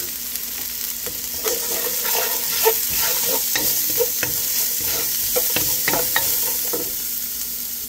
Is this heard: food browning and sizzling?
yes